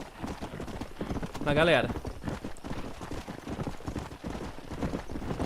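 Horses trot with steady, rhythmic clip-clopping hooves in Red Dead Redemption gameplay on Xbox Series S, with a brief whinny partway through. Someone talks over the hoofbeats, which are close and continuous.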